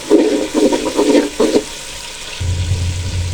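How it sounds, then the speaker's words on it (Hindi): Yakhni stock goes into a frying masala of yogurt and tomatoes for fried chicken pulao, with a few loud gushing splashes followed by a steady low sizzle and bubbling, close and alone. "साथ ही इसमें हम यखनी शामिल कर देंगे"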